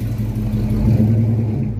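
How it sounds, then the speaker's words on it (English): An early 1950s Chevrolet car passes at a swap meet, its steady low engine rumble swelling slightly mid-pass and then easing off, heard alone without talk. "early 50s Chevy driving by."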